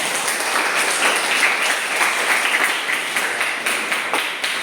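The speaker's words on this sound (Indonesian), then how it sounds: "silakan berikan aplaus kepada temannya" A classroom gives a student group applause after its presentation, dense and sustained clapping from many hands at a fairly loud level throughout.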